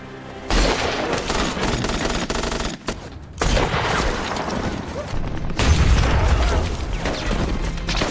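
Dense battle gunfire during a counterattack scene in a sniper action film, with sustained bursts and heavy booms layered into a continuous loud roar, a brief lull near the middle, then an even heavier stretch.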